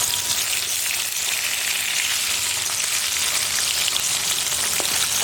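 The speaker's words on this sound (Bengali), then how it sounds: "আর এই মাছগুলো কিন্তু একটু কড়া করেই ভাজতে হবে।" Koi fish frying in mustard oil in a pan, cooked village style for a Bengali fish curry, giving a steady, loud, dense crackling sizzle throughout with no talking.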